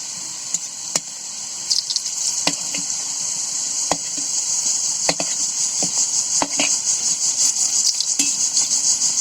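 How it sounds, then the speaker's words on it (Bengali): Ring goja, a ring-shaped fried dough sweet, frying in oil over medium heat and turned over, giving a steady broadband sizzle with scattered sharp clicks and taps of a utensil throughout, no voices. "মিডিয়াম জাল রেখে ভাজতে হবে কিন্তু খুব জোরে জাল করলে পুড়ে যাবে উল্টিয়ে দিই"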